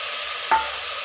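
A brief stir in a hot pan where curry leaves and turmeric fry in oil before mutton is added, a short swish over a constant close sizzle.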